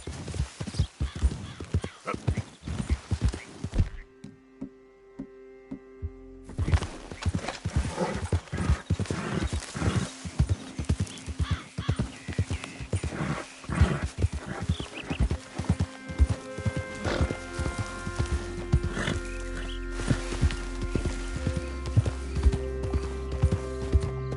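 Steady, rhythmic horse hooves clip-clop for a long stretch in Red Dead Redemption 2, pausing briefly then resuming faster, with a low rumble building toward the end.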